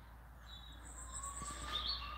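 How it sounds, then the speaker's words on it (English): Small woodland birds, nuthatches among them, chirp faintly outdoors in Haddington, giving a few thin high calls over steady background hiss, with no voices. "They're beautiful little birds."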